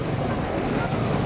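Cold wind blows near Mailung waterfall and buffets the microphone with a loud, continuous low roar and rumble.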